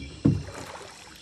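A boat pushes across the water in the Fishing Sim World game at Laguna Iquitos, making one brief, fairly loud wash near the start that fades into a soft, steady background hiss.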